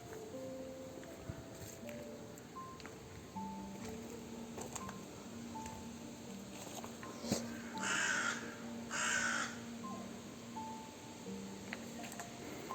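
A crow caws twice in quick succession, clear against quiet background ambience while walking through Père Lachaise cemetery in Paris.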